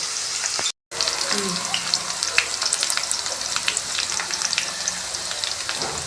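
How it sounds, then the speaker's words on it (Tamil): Garlic and onion frying in plenty of oil for a kuzhambu, a loud close sizzle with light stirring clicks, broken by a brief silent gap near the start. "வெள்ளை பூண்டும் நல்லா கொஞ்சம் நல்லா எண்ணெயிலே வதங்கட்டும்"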